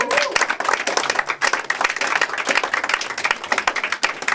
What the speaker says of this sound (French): je vais vous demander d'applaudir très fort mon ami Nico Knapper